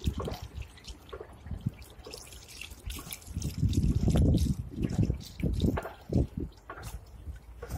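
Leftover windshield washer fluid is poured from a canister into a car's washer reservoir, with close liquid trickling and splashing that swells into a fuller gush midway, then breaks into uneven dribbles.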